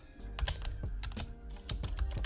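Keys tapped on a computer keyboard while entering an AutoCAD command, a quick run of close, crisp clicks and clacks with a few heavier key strikes, nothing else heard.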